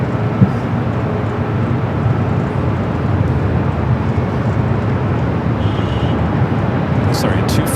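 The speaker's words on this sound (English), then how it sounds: "China Airlines Cargo Flight 5137 heading to Taipei. 777 freighter rolling down to 25 right on the south." A China Airlines Cargo Boeing 777 freighter rolls on an LAX runway, heard as a loud, continuous low engine roar and rumble that stays steady throughout, with a voice speaking over it.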